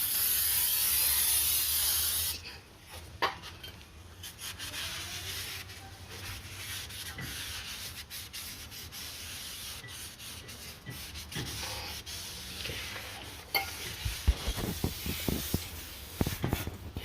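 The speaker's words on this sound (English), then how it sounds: "so right now I'm just gonna spray the back again" Brake cleaner hisses from a spray can onto the back of a brake rotor on an Infiniti G37S with big brakes, a strong burst at the start, then scattered rubbing, shorter sprays and handling clicks.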